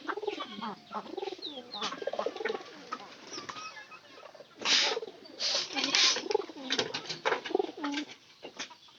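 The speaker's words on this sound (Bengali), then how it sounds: "তো পায়রা কিন্তু ভালোই ডাকতে পারে। গতকালকে আনার পর থেকে মনে করেন যে প্রচুর ডাকছে।" A pigeon coos in repeated soft, low rolling calls close by, with bursts of wing or body rustling and a faint voice in the background.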